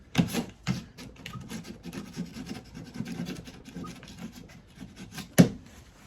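A ToughBuilt utility knife scraping pieces off aluminium, a steady close scratchy rasping that runs for several seconds and ends with one sharp scrape.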